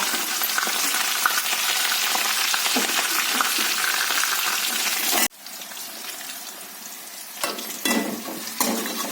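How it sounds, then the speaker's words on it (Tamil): Mustard seeds, ginger garlic paste, one dried red chilli and curry leaves sauté in hot oil, giving a loud, steady sizzle that suddenly drops to a quieter crackle halfway, with occasional scraping stirs near the end. "எண்ணெய் ஊற்றி கடுகு போட்டு இஞ்சி பூண்டு பேஸ்ட்டு போட்டு ஒரே ஒரு வரமிளகாய், கறிவேப்பிலை தழை இதை போட்டு வணக்கிட்டு இருக்கேன்"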